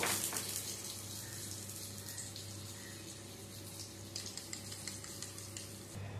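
A spoon stirs milk powder into warm water, producing quiet, continuous swirling with light, scattered clinks against the container.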